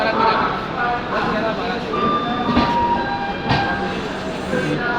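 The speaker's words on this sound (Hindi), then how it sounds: "ये है हाफा मुंबई सेंट्रल दुरंतो एक्सप्रेस" The Hapa–Mumbai Central Duronto Express rumbles steadily nearby, a continuous loud rolling noise with occasional metallic clacks and faint squeals.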